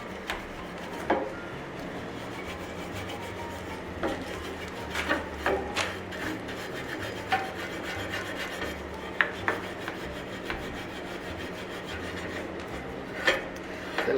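A small hand-forged blacksmith ornament is rubbed clean with quick scratchy strokes, an uneven rasping scrub close by with occasional sharper scrapes over a low steady hum.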